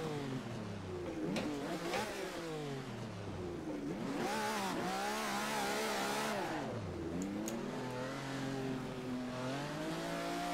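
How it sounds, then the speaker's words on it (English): A Ferrari engine in the Assetto Corsa racing game rasps through rising and falling revs as it shifts through gears and accelerates, loud and continuous, with a faint tire squeal. "Now that's a completely different sound, but it still has that Ferrari raspiness."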